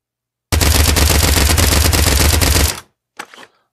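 Submachine gun firing on full auto in the VR shooter Pavlov Shack, a loud rapid burst of shots lasting about two seconds, then a short echoing tail and a brief faint rattle.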